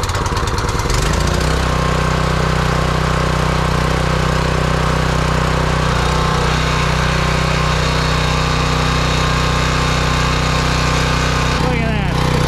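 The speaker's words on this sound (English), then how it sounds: "Now on to the Ryobi 2900 PSI pressure washer." A Ryobi 2900 PSI gas pressure washer's small engine runs loud and close after starting with a short sputter, settling into a steady, droning idle with a constant buzzing hum and a brief clatter near the end.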